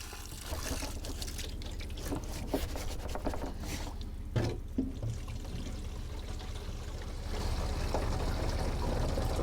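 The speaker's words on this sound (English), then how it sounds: "So this is a spring. This is where I get my water for the camp." Spring water pouring and trickling steadily at a hunting camp, a continuous close splashing flow that grows slightly louder toward the end.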